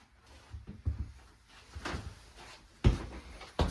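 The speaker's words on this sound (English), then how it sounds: "The barn doors in these things I think look absolutely amazing. So you just slide those shut." Sliding barn doors in a Jayco 382FLRB camper roll along their track and bump shut, with a few soft rumbles and then a firm thud near the end, close by and without talk.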